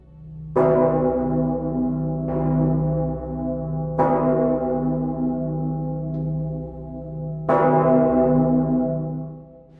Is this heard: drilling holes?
no